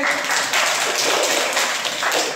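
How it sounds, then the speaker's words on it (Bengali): A short burst of hand clapping in a classroom, fast, dense and close, sustained evenly for a couple of seconds with no talking. "তার জন্য একটা হাততালি হবে।"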